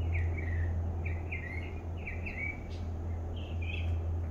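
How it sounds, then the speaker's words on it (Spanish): Small birds give short, bright chirps in quick clusters that repeat at regular intervals, fairly clear over a constant low hum in a quiet indoor setting. "Oye, mis pajaritos, qué bellos."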